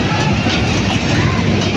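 A fairground mini train runs on its track at a Mumbai jatra festival in Oshiwara, giving a steady, dense rumble that blends with continuous crowd chatter nearby.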